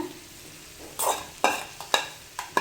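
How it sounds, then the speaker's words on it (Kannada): Boiled sweet corn kernels with coriander tipped into a hot pan and stirred, giving a soft sizzle broken by four or five sharp scraping strokes of a spoon. "ಕೊತ್ತಂಬರಿನ ಆ್ಯಡ್ ಮಾಡಿಕೊಂಡು ಹುರ್ಕೊಂಡಿಟ್ಟಿರುವಂಥ ಗೊಂಜಾಳ ಕಾಳನ್ನ ಇದಕ್ಕೆ ಹಾಕೊಂಡ್ಬಿಡೋಣ"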